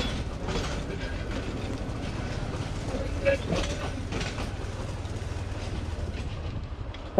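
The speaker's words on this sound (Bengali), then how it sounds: "চলেন আমরাও আগাই ট্রেনের সাথে সাথে।" A train rolls past close by near Fatema Nagar railway station on stony trackside ground, a steady loud rumble with rhythmic wheel clatter and rattling wagons, with faint voices underneath.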